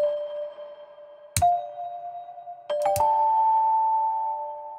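Bright chime tones ring out, a few struck notes layered over one another, each trailing into a long reverberant sustain.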